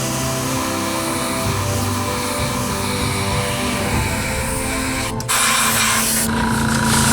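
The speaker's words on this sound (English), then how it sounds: "Get the airbrush going." An airbrush sprays paint onto a Star Wars cantina diorama with a steady, close hiss that holds through the clip, breaking briefly near the end before resuming.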